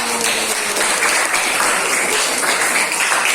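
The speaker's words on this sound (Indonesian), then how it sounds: "Kasih tepuk tangan dulu" Classroom applause following a student group's presentation, a steady wash of many hands clapping close by that holds evenly throughout with no talking over it.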